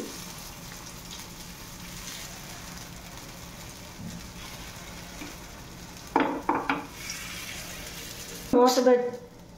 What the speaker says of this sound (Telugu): ఆయిల్ వేడెక్కినాక గుంత పొంగనాలు వేసుకోవాలండి